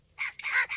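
A crow gives two or three harsh caws in quick succession, fairly close and clear, with nothing else heard.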